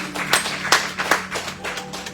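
A church congregation claps in praise of the Lord during a Holy Spirit plenary gathering, loud and close, with uneven rhythmic hand claps over a steady low hum and no voices.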